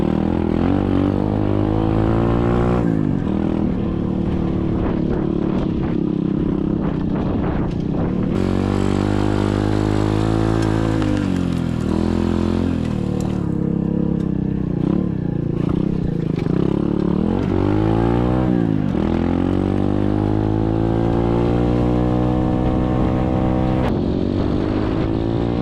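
An SSR 125cc dirt bike is ridden outdoors, its small engine droning loud and close throughout, revving up and down with rising and falling pitch and occasional throttle surges.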